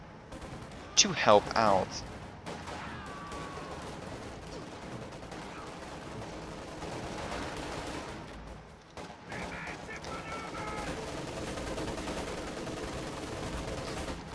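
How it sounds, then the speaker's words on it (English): Machine guns lay down suppressive fire in a Company of Heroes 2 battle, with bursts of gunfire and distant battle noise rumbling continuously under a commentator's voice. "We're laying down enough suppressive fire."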